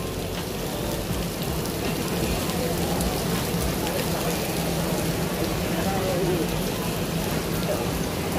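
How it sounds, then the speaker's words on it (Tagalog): Heavy rain pours steadily outdoors in Singapore, a dense continuous hiss of downpour on surfaces throughout, with faint voices underneath. "Oy, baby, it's raining."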